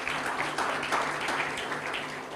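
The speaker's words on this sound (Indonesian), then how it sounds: "Kasih tepuk tangan boleh Tuhan kita." Church congregation clapping together during a Sunday worship service, a steady dense wash of applause that holds at an even level throughout with a faint hum beneath.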